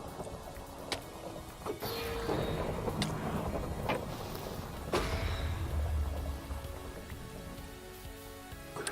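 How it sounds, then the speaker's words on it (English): Thunderstorm in a Minecraft hardcore world: steady rain hiss throughout, with scattered sharp cracks and thumps and a low rumbling swell midway, no talk. "Second longest thunderstorm"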